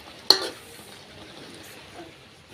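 Boiling spinach greens being stirred and mashed in a pot, one sharp scrape of the utensil against the pot followed by soft bubbling and quiet stirring.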